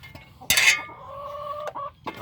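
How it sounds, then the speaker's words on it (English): A sharp clatter is followed by a hen's drawn-out, warbling cluck and a few shorter clucks nearby. "You can hear the chickens in the background."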